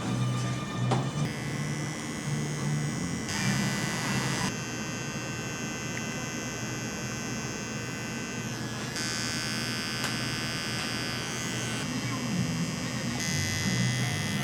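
Electric shaver buzzing steadily while a barber shaves a reclining customer in a barbershop, a continuous close hum with mains-like drone and shifting pitch, with faint talk underneath.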